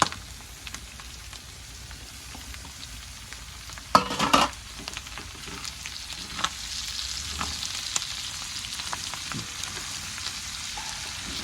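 Pork innards for dinuguan sizzle in a hot pan, a steady frying hiss broken by a loud clatter of food and utensil hitting the pan, after which the sizzling swells and stays dense and close.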